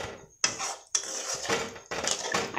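Metal clanks of a lid set onto a cooking pot of simmering Bengali chhanar dalna, a few sharp close knocks and rattles in quick succession, with no voices.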